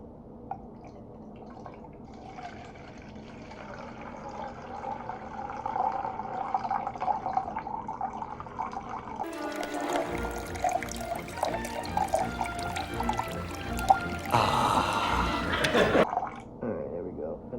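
Hot water flows from a tap into a measuring cup, starting as a soft trickle and swelling into a louder, splashing pour that rises as the cup fills.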